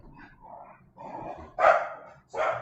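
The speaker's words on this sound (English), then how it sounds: "So Puppy's not so little anymore" A large dog barks loudly nearby in a few separate bursts, the last two especially strong, with no talking over them.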